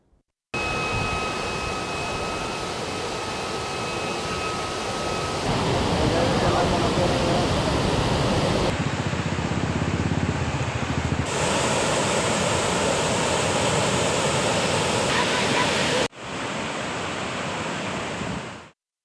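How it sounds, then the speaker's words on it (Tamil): Floodwater roaring out through the 16 sluices of the Kallanai dam in Tamil Nadu, a steady loud broadband rush that keeps going without a break, with a few abrupt shifts in level. "16 மதகுகள் வழியாக காட்டாற்று வெள்ளமாக தண்ணீர் ஆர்ப்பரித்துச் செல்கிறது"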